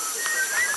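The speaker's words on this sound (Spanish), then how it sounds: "Que está silbando tan tranquilo aquí a veintitantos metros." A man whistles high up in a Korowai treehouse more than twenty metres above the ground in Papua, Indonesia: one short, thin, high whistled note that wavers slightly in pitch, fairly faint over steady outdoor background hiss.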